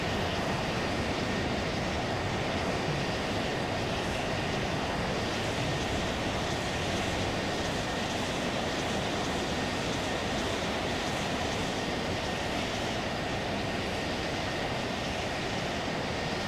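In a flight simulator, an airplane taxis using nose wheel steering, with a constant engine drone and rumble that stays steady and loud for the whole stretch, free of talk.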